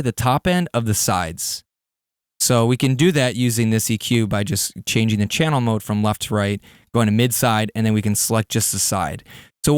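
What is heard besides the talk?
No distinct noise like a dog, phone or traffic.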